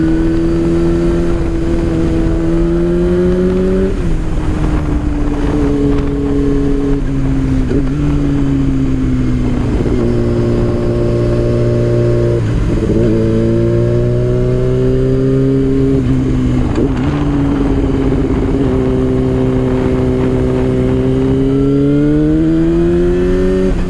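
A vehicle engine accelerates hard on the winding mountain road NC-80, loud and close, its pitch climbing and dropping repeatedly through gear changes for the whole stretch.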